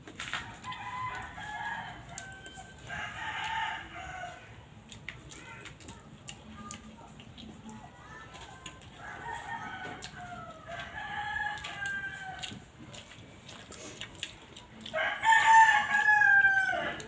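A rooster crows a few times at a moderate distance, with faint clucking and soft background noise between the calls.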